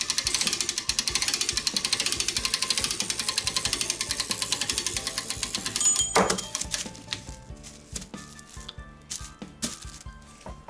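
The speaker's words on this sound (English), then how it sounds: "reverse the flow of the spring winder, and slowly let it unwind." A spring winder ratchets rapidly as a clock mainspring slowly unwinds, giving a dense run of close clicks that gives way to scattered metallic ticks and clinks.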